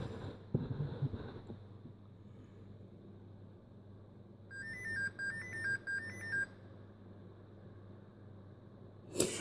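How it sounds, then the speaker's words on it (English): A Dell Inspiron 1525 laptop running hardware diagnostics plays a short electronic beeping melody, like an early-2000s cell phone ringtone, for about two seconds midway through, clear over a low steady hum. "Sounds like an early 2000s cell phone ringer."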